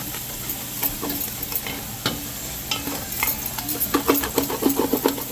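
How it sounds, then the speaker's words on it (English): A sizzling pan on low heat is stirred and scraped to lift browned bits from the bottom while cooking beef short ribs, with a continuous fry hiss and quickening utensil scrapes toward the end. "the goal is to scrape up all the stuff on the bottom of the pan"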